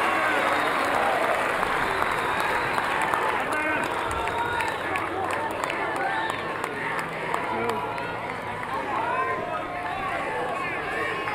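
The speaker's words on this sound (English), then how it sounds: "Feel the energy of this crowd swelling back a little bit after that 2-run homer for Wells." Baseball crowd at an NCAA tournament game between Louisiana Tech and NC State, swelling with sustained applause and cheering after a two-run homer, a dense steady roar of clapping under continuous commentary.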